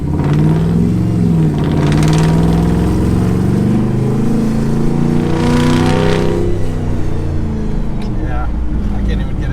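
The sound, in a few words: shop truck engine revving during dyno trial run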